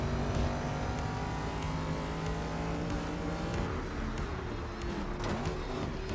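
A race car engine in the video game GRID Legends, during a semi-pro touring car event, drones loudly and steadily for several seconds, its pitch holding fairly even with no voices over it.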